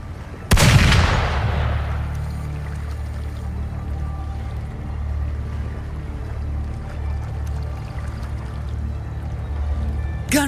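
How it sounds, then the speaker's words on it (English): In the video game Wuthering Waves, a single loud gunshot blast rings out and decays, followed by a low rumbling ambience with faint scattered noises. "Gunfire! We've got intruders."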